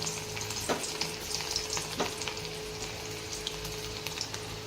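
Chopped garlic sizzles in hot oil, a close, steady frying hiss with a few sharp crackles and light stirring scrapes throughout, with no voices.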